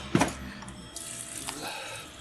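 Tap water splashes over soaked beans being rinsed for sprouting, with a brief clatter at the start followed by a soft, steady trickle and faint handling noises close by.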